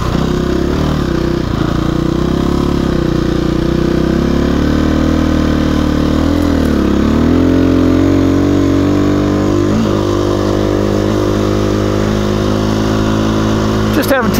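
A KTM 350 EXC-F dual sport motorcycle rides a remote forest trail, its single-cylinder engine droning loud and close with the pitch rising and falling as the throttle works, steady throughout.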